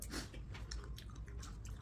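Chewy food being chewed close up, a quiet run of repeated wet crunching and squishing bites with a steady rhythm, no talking.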